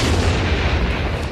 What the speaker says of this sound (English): That was a 10 out of 10 movie explosion.